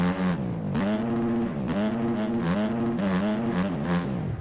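A factory motocross bike engine in the MX Bikes video game revs hard and close, its pitch rising and falling in quick repeated surges as the gears shift.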